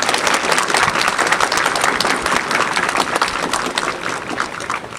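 An audience at an agricultural school event in Poland applauds a school director with dense, sustained clapping that stays loud and even throughout.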